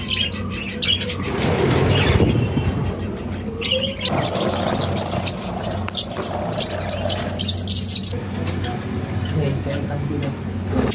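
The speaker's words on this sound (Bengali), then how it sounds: "এবার আবার উপরের ঘরে আমার যেখানে সেপারেট করে রাখা আছে সমস্ত সেমি অ্যাডাল্ট পাখিগুলো" Caged semi-adult exotic birds chirp and tweet in a steady, busy chorus, with scattered calls and coos over a continuous background of indoor noise and voices.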